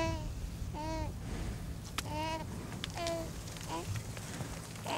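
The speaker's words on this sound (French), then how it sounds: "Il pleure." A baby cries and whimpers in short, wavering bursts, several fussy wails spread across the stretch, close by over a steady rain-like background hiss.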